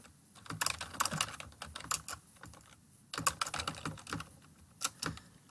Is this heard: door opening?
no